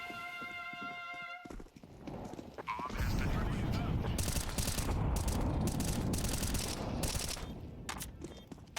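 Video game gunfire erupts in a busy, continuous run of shots mixed with horse hooves and whinnies, following a quieter opening with musical tones and a voice.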